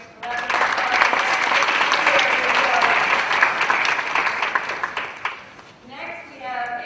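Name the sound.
audience round of applause for organ recipients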